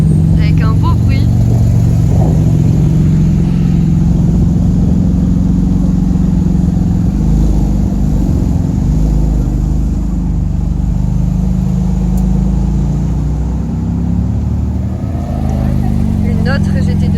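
A Porsche 911 GT2 RS engine gives a loud, close, continuous low rumble that holds steady for the whole stretch, with no clear revving peaks.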